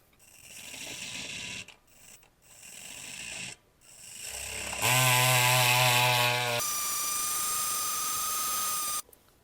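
Flextail Tiny electric bike pump inflating a 28 mm tire toward 80 psi, a buzzing motor whine that starts and stops in short runs, then a steady high drone before cutting off.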